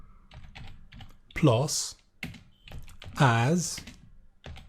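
Computer keyboard typing under continuous close speech, keys tapping in quick irregular runs while someone talks over them.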